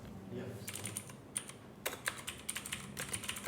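Computer keyboard keys clatter in irregular bursts of quick close taps with short pauses, someone typing code at a desk under a faint background hum.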